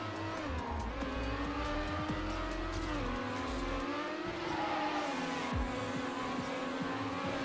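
Engine of a car in a racing video game, a steady droning rev with tire squeals and skidding scrapes as it swings through a U-turn, loud and continuous.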